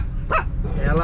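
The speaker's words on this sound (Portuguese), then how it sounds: "Tá latindo por nada, cara." A dog lets out one sharp, close bark by a motorhome parked along a seaside promenade in Guriri, Espírito Santo, and a voice talks just afterward.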